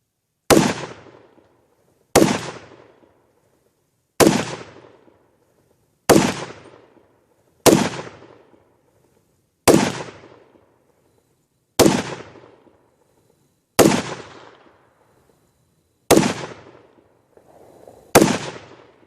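A 300 Blackout AR rifle firing 110-grain rounds: ten sharp, loud shots spaced evenly about two seconds apart, each snapping hard and decaying quickly into silence.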